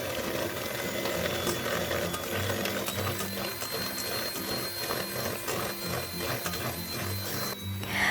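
An electric mixer whirs steadily at high speed while beating a small batch of eggs for steamed bakpia batik dough, a continuous close mechanical buzz with no talking.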